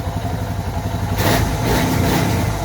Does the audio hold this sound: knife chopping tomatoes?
no